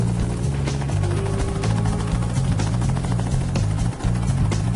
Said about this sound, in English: They have abandoned the roads and taken to helicopters.